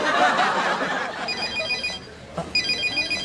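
A telephone ringing before it is answered, heard as bright electronic ring bursts in the second half that rise over chatter and a short laugh nearby.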